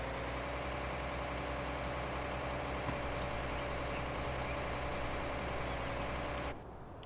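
A heavy tractor engine in a video game, modded to sound like a John Deere, idles in a steady, low rumble, then the sound drops off abruptly near the end.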